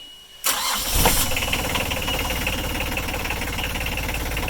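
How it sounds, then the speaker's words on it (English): A Yanmar 3YM30 marine diesel aboard a boat cranks briefly and catches, then settles into a steady, loud, close idle with a knocking diesel clatter that runs unbroken to the end. "So my wife is about to start the engine."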